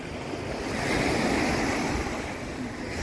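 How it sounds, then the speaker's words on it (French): Waves wash onto a freshwater river beach in Belém, Brazil, heard as a continuous broad surf rush mixed with wind buffeting the microphone. The sound swells slightly in the middle and then settles. "C'est une vraie plage. Mais c'est comme en eau douce."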